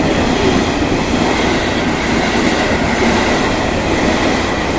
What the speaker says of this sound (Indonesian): Nah, ini kereta ke Nambo.